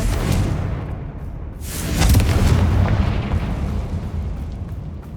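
A Confringo blasting spell explodes in the Hogwarts Legacy video game: a loud, deep boom swells out of continuous roaring noise and then slowly fades.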